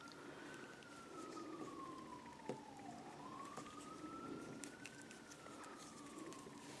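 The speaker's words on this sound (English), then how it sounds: "police car going past." A police car siren passes in the distance, a faint, slow wail that falls and then rises again. Quiet indoor background noise sits underneath it.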